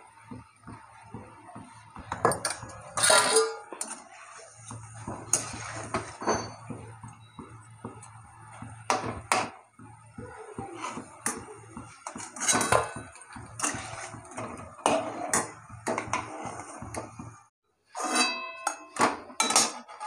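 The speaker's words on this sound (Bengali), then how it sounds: "ফুলুরিগুলো এবার আমি তুলে নেব।" Metal spoon and pan clatter as coconut palm fritters are lifted from hot oil in a home kitchen, repeated sharp clinks and scrapes in irregular bursts, with a low steady hum beneath and no talk.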